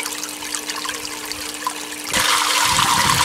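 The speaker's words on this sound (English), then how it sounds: "Here's the pump flow after cleaning the pump. You can see it's quite a bit more. Now the water's spraying like that because I have a Venturi set up." Water rushes from a freshly cleaned Active Aqua submersible pump with a Venturi attachment, a steady hiss that jumps to a louder, fuller spray partway through, with a constant hum beneath.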